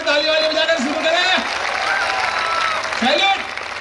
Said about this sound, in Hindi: पूरा एक बार ताली वाली बजाकर शुरू करें